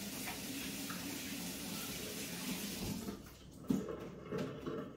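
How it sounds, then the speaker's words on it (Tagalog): Hands being washed under a running kitchen tap, the steady stream of water hissing and splashing nearby, then thinning out with a few louder splashes and knocks near the end. "Maghugas na ako ng kamay."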